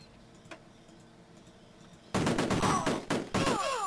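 Gunfire in the Amiga game Cannon Fodder, a few faint ticks and then a loud burst of shots and explosive bangs in the second half, with sweeping tones between.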